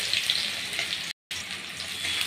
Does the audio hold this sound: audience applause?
no